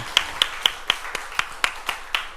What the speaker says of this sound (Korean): 하나님께 감사와 영광의 박수 돌리겠습니다.